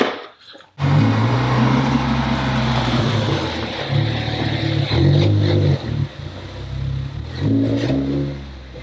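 A Ford Focus ST's engine revs close by, a loud low drone that rises and falls in pitch over several seconds, with a brief quieter stretch before it surges again.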